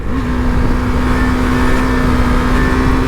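A motorbike accelerates hard on an open road during a top-speed run, its engine holding a steady loud drone with a sustained rising tone throughout and no talk.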